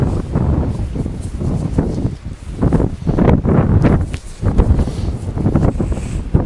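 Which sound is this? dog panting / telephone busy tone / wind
wind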